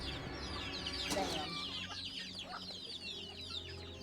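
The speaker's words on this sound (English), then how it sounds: "baby chickens and half-grown chickens in the tubs" Chickens, baby and half-grown birds kept in tubs in a cluttered hoarder's house, cluck and chatter continuously in a dense, close flock, with a steady murmuring background and no clear speech.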